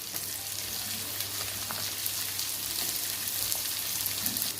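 Carrots and onion frying in a pan for egg chow mein, with a soft, even, continuous sizzle close by and faint crackles throughout.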